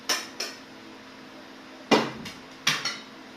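Metal pots, pans and utensils clatter while vegetables are being cooked, as four sharp clanks ring out close by with gaps between them and no voices.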